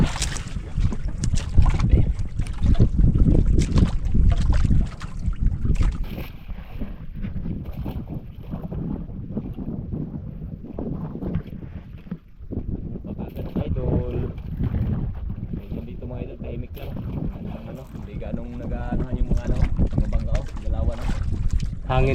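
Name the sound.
wind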